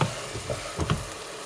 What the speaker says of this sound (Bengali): এদিকে এখনও খিচুড়ির মশলা ভাজা হচ্ছে